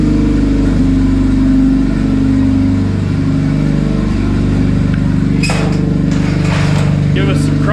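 A turbocharged D16 engine in a Honda Civic idles steadily, loud and close, with a brief rev swell midway and some clatter and knocks near the end.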